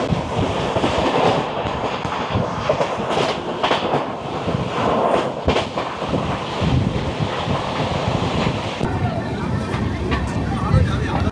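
Bikaner–Sealdah Duronto AC Express, train number 12260, pulling into a station platform on an Indian railway line, with a steady, loud rumble and clatter of rail cars throughout, wind buffeting the microphone.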